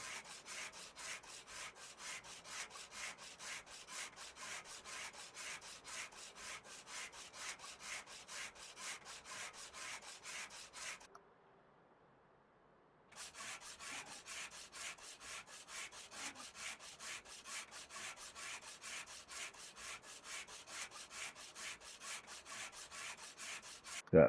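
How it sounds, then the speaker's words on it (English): Rapid, regular rubbing strokes of sanding on car body work in the video game Car Dealer Simulator, continuing steadily with one short pause in the middle, fairly quiet and without talk. "Alright, let's go ahead and start sanding this."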